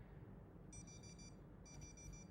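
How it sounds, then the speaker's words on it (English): A timer goes off with two short bursts of high electronic beeping, faint and clear over quiet room hiss. "Oh, my timer just finished"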